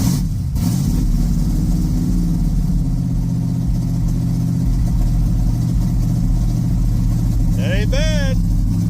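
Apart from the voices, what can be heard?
old car engine running after cold start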